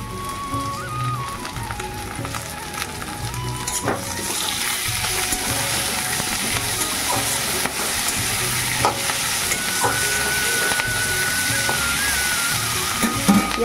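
Tomatoes sizzle as they are added to fried onion and potato in a pan and stirred for a fish curry, a continuous crackling fry with repeated scraping stirs and no talking.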